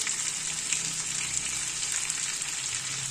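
Chicken pieces fry with green chillies on a hot tawa, giving a steady, loud, even sizzle that runs unbroken throughout.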